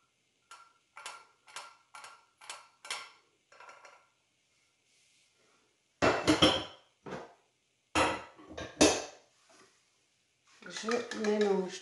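An egg and melted butter whisked in a bowl, first a run of rapid rhythmic taps against the bowl, then a pause, then louder bursts of clattering strokes, ending in a brief stretch of voice.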